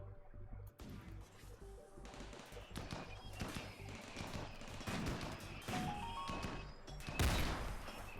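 Bursts of heavy gunfire from the Kraken in a video game, dense and continuous with crashing impacts layered over a busy game soundscape.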